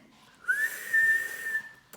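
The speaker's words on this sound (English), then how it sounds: "put 2 fingers in his mouth and let out a very large whistle of his." A loud, sharp two-finger whistle rises then holds in a couple of piercing shrill bursts, close and alone with no other sounds.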